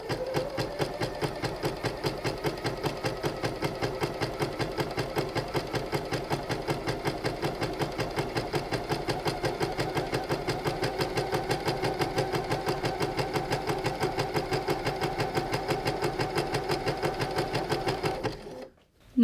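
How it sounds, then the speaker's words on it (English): Sewing machine fitted with a stretch needle running a zigzag stitch, a steady rapid mechanical chatter held for about eighteen seconds at close range before stopping abruptly. "First let me do the zigzag stitch."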